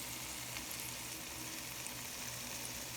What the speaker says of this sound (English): the meatballs are browning nicely